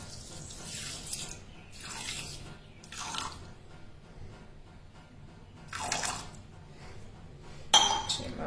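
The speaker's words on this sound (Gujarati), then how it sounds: "હવે આપણે ખાંડ ડૂબે એટલું જ પાણી નાખીશું." Water poured over sugar in a bowl to make syrup for mohanthal, heard as several short splashing pours and trickles with a faint clink near the end, close and fairly quiet.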